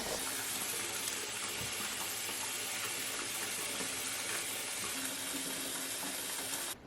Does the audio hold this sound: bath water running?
yes